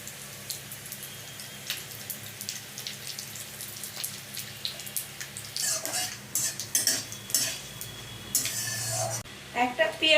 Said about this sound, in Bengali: একটা তেজপাতা, 5 ফোড়ন আর শুকনো লঙ্কা ফোড়ন দিয়ে দিচ্ছি।